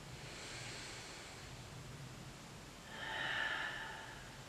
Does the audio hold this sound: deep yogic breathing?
yes